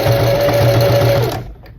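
Sewing machine fitted with an overlock presser foot stitching a trouser hem, a loud steady rhythmic mechanical whir running for over a second before stopping abruptly, with no talk.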